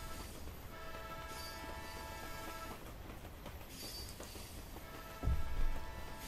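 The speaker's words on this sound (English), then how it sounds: "I'm going to get rid of these train sound effects." Train sound effects play within a Source Filmmaker animation project: a steady rolling rumble of rail cars with faint squealing tones, ending in a louder low thump and clatter near the end, with no voices.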